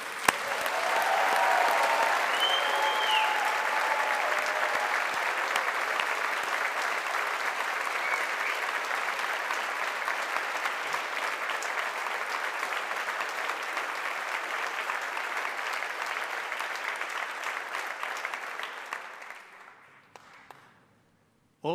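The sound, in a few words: graduation ceremony round of applause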